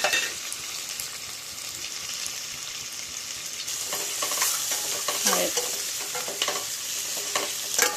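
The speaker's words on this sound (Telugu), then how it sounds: "అది వేగినాక కొంచెం ఉల్లిపాయ వేసుకోవాలి" Onion frying in hot oil with cumin seeds and cinnamon bark, stirred in a pan for a chicken curry: a steady, close sizzle with scraping spoon strokes and bursts of crackling as the pan is worked, no talk.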